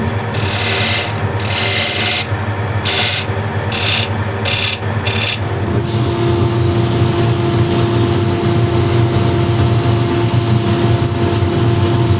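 A wooden piece is being scraped, with rough rhythmic strokes at first, then giving way to a loud, continuous machine-like drone that dominates the rest.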